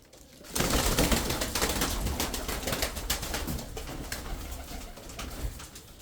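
Tumbler pigeons cooing close by, a dense, continuous murmur of many birds with some rustling and flutter, after a brief quiet start.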